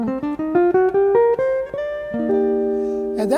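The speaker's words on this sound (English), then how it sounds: "that is the sound of a spruce top vibrating, creating a beautiful jazz sound" A jazz guitar with a spruce top plays a run of clear plucked notes that climb step by step. It ends on a sustained, ringing chord, alone with no talking.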